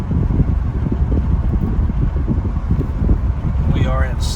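Inside a 2007 C6 Corvette with a six-speed gearbox, cruising in sixth gear at about 45 mph, a loud, steady low drone of engine and road noise mixes with wind rush, and a voice briefly cuts in near the end.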